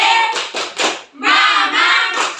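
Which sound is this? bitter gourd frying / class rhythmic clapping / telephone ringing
class rhythmic clapping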